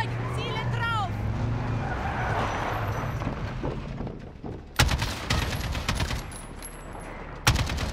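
A Russian vehicle in the Call of Duty Modern Warfare video game rumbles amid bursts of gunfire and sharp impacts, with voices talking over the action throughout.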